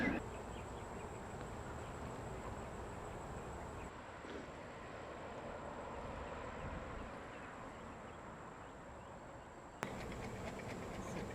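A steady buzz of honeybees in an open hive drones throughout, faint and continuous, with a few soft knocks and handling sounds.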